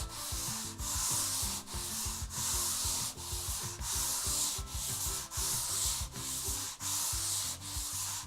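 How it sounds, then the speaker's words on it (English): A power sander smooths joint compound over a wall seam, a steady abrasive whir broken into regular passes about every 0.7 seconds, close and loud with no talk. "We're actually just going to use this sander to roughly create a smooth and flat surface."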